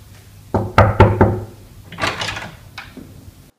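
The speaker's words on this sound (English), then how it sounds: "I'm going to go knock on her door" Knocks on a wooden door: three firm raps close by in quick succession, then a muffled rustle and a softer thud as the door seems to move.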